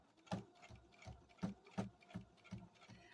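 A sewing machine slowly stitches in the ditch along a quilt seam, giving a close, steady run of rhythmic mechanical thumps and whirs with no voices.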